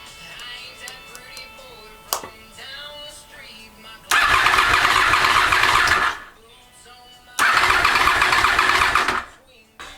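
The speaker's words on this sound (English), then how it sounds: "hit the start button, see if it cranks over" A Honda VFR 800 motorcycle, bought as a non-runner, cranks over with its starter in two long bursts of about two seconds each, loud and close, separated by quieter gaps where a voice talks.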